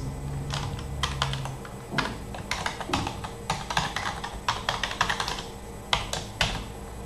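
Fast typing on a computer keyboard while writing code, uneven bursts of close, crisp key clicks with short pauses, quiet and without talk.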